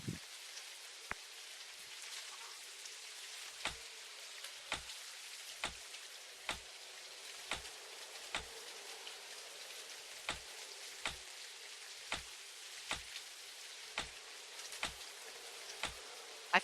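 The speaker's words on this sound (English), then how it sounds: "I find the sound of the rain very relaxing." Rain falls in the cozy farming video game Greenfield Valley as a soft, steady hiss, punctuated by evenly spaced faint drip-like taps roughly once a second.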